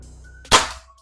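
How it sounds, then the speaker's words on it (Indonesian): A single airsoft gun shot from a rifle upgraded with a BST MK2 part, one sharp close crack that rings off briefly, alone after a faint low hum. "ini tembakan yang ketiga pakai BST MK2."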